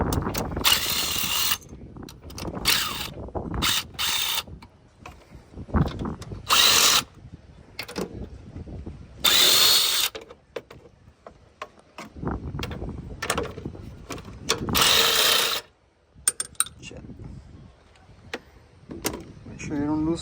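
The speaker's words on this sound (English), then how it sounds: "I use this kind of ratchet." A ratchet works the timing cover screws on a Chevy 1.4-litre turbo engine in bursts of fast mechanical clicking and whirring, broken by pauses, with someone talking between the bursts.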